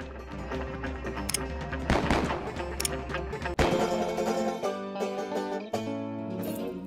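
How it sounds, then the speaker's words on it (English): Repeated gunfire from soldiers shooting each other in the Westerado video game, sharp shots cutting through a backdrop of game music. "They're shooting each other."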